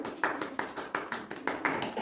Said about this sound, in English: Clap for Vinashu.